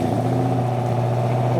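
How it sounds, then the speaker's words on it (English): A Pontiac Trans Am in classic livery pulls away from a classic car meet on a frosty December morning with a cold engine, giving a steady, loud, close engine drone and no talk. "I do love a Pontiac Trans Am in the classic livery,"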